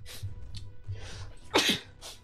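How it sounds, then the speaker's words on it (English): A single sharp sneeze bursts out loud and close at a desk during a live Tetris tournament commentary, preceded by a couple of quieter breaths and followed by a brief softer exhale. "Just had a sneeze there."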